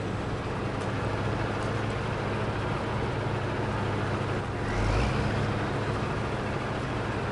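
Heavy truck driving in the video game SnowRunner, a steady low engine drone that holds constant throughout, with a slightly louder swell near the end and no talking.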